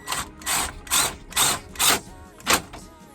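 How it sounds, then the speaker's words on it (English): A ratchet tightens bolts on a double DIN radio bracket in a 1999–2002 Chevrolet Silverado, sounding as six quick, evenly spaced bursts of close clicking with brief pauses between strokes. "now we're just gonna bolt it on"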